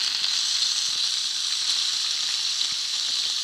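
Salt pork sizzling in a camp pan at dinner in the mountains, a steady close hiss and crackle with faint pops and no voices.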